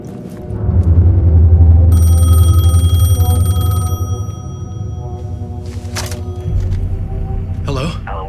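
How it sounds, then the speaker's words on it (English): A telephone rings repeatedly with steady electronic tones in the video game Alan Wake 2, heard over a low rumbling ambience and then fading into quieter room tone with brief clicks. "The phone was ringing."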